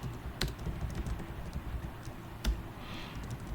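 Someone typing code on a computer keyboard, a close, continuous patter of quick key clicks with a few heavier strikes, no voice.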